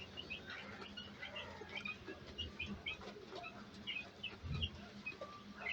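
Chickens on a poultry farm drinking medicated water, with faint scattered clucks and chirps over a steady barn hum, and no voices.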